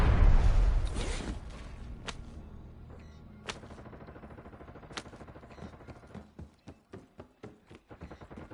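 Gunfire rings out in a video game battle, starting with a loud blast and then shifting to scattered distant shots and sharp cracks, some in quick rapid runs, over a low rumble.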